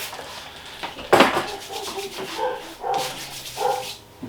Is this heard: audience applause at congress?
no